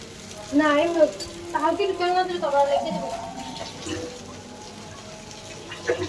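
Chapri flatbread fries in hot oil in a pan with a steady, soft sizzle, while people chat nearby throughout.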